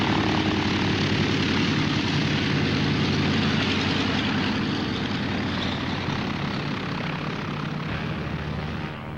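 Propeller airliner engine at an airport, a loud continuous droning roar holding steady throughout, close and unbroken, with no voices over it.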